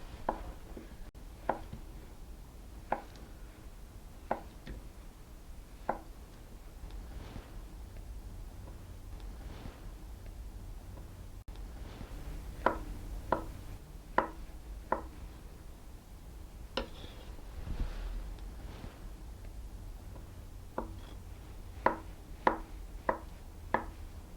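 A knife cuts Greek feta cheese into cubes on a board, giving a series of faint, soft taps at irregular intervals, some in quick clusters, against a quiet background.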